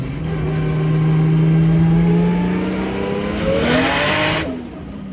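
A Nissan S13 with a 1.5JZ engine revs hard on a dyno, its pitch climbing in one loud, sustained pull. A sharp burst near the top ends the run, and the engine falls back quickly.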